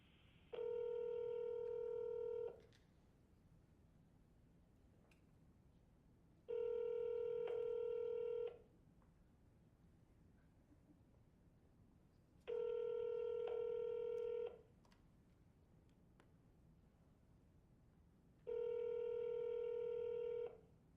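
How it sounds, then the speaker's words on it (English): A telephone line on hold while waiting for an operator plays four evenly spaced, clear electronic ring tones, each about two seconds long. Faint hiss fills the gaps between them. "Continue to hold while we try to reach an operator."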